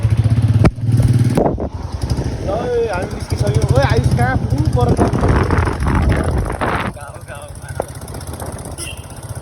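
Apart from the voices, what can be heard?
Hero XPulse motorbike engine starting off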